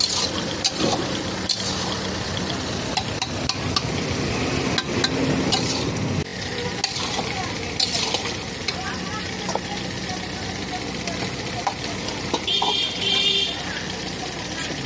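Banana flower and boiled potatoes frying in a pan for a vegetarian mochar ghonto, giving a steady broadband sizzle with occasional stirring clatter under the cook's voice.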